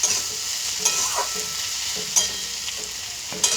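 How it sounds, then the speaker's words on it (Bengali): Tomatoes stirred and frying in a pan with a constant bright sizzle and a few sharp spoon scrapes against the pan, close with no voices. "টমেটো দিয়ে এটা বেশ কিছুক্ষণ নাড়াচাড়া করবো"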